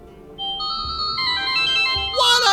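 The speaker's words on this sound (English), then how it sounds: "I could give the residents a little taste of the future with one of the ringtones." A phone ringtone plays in the PC adventure game Secret Files 3, a bright electronic melody of sustained tones building over a couple of seconds and ending in a louder burst.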